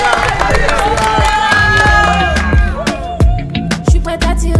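An audience at a contestant show applauds and cheers as contestant number four is introduced, loud crowd noise with scattered claps and shouts, followed by music.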